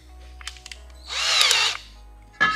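A power drill whirs in one sustained burst of about a second, with a few small clicks before it and a short rough buzz at the end.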